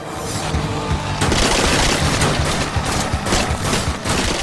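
SMG gunfire in the video game Dead Nation, a dense, loud burst of rapid automatic shots with booming impacts that runs continuously throughout, with no talking.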